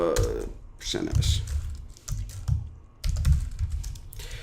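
Typing on a computer keyboard in a bursty, uneven rhythm of close clicks, mostly under steady speech from someone talking throughout.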